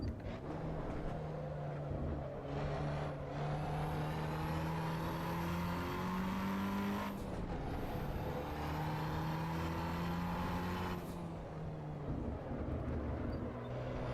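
Racing car engine in Assetto Corsa EVO, a steady droning tone that rises in pitch through gears and drops on shifts, held at moderate volume throughout with no talk.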